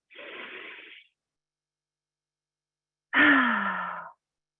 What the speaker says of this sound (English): Let's just take a deep breath in together.